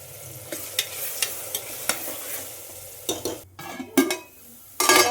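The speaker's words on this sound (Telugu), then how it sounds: "కొంచెం సాల్ట్ వేసుకుంటే తొందరగా ఫ్రై అయిపోతాయి" Onions frying with salt in a pan for a mutton curry, with a low steady sizzle under a series of sharp spatula scrapes and clinks against the metal, growing louder and busier near the end.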